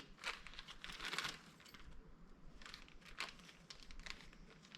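A ratchet rebuild kit package being opened, with soft crinkling plastic and paper rustles coming in a few short bursts, faint and close with no talking.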